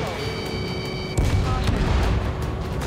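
A SAM site in Ace Combat 7 blows up with a deep, booming blast that swells in midway and rumbles on under steady jet engine drone and game sounds.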